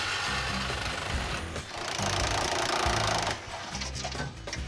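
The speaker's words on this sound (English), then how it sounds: "So what I'm gonna do is just chop the exhaust to match and get rid of the rest of that side." A power tool grinds loudly and continuously through the exhaust pipe of a Dodge Charger with a 318 engine in a garage, its whine dipping briefly twice as the cut progresses.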